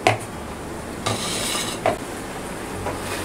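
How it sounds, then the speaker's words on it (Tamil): A metal lid clanks on a cooking pot of Tamil vada curry, a couple of dull knocks over a steady, noisy kitchen background with no talking. "இப்போ மூடியை திறந்துட்டு"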